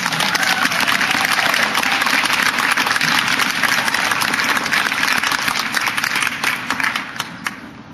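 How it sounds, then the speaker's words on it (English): An audience at a para-equestrian awards ceremony breaks into steady applause, a dense, continuous wash of clapping that holds fairly loud throughout and thins slightly near the end. "Let's give him a warm round of applause"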